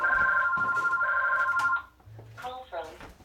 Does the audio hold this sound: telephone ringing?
yes